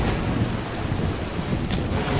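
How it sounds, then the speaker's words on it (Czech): Steady heavy rain with rumbling thunder in the Ghost Master video game, a dense continuous wash of noise at constant loudness with a brief crack partway through, and no talk. "Takže fungoval déšť."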